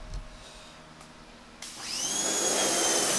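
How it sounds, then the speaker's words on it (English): Pressure washer spraying grime off a Kandi Spider buggy, a rising hiss that builds after a short pause into a steady forceful spray, loud and close. "We got the handy dandy pressure washer out. We're going to start blowing stuff away."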